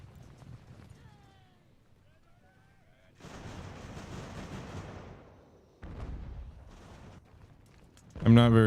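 Artillery fire in Ultimate General: American Revolution, a battle game, comes as rumbling bursts of booming cannon blasts with crackling musketry, loud and dense, between stretches of quieter battlefield noise and a voice.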